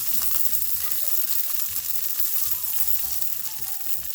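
Chicken wings sizzle in an air fryer, a loud continuous crackling hiss close at hand, with a low hum and faint clunks underneath and no voices.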